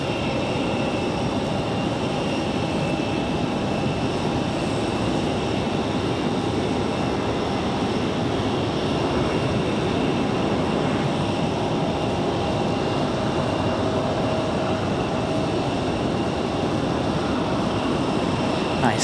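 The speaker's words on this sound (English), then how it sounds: "Nice touchdown for the United Express E175." A United Express Embraer E175 jet lands at Raleigh-Durham airport, producing a continuous distant engine roar and rumble that holds steady for the whole stretch, with no talking.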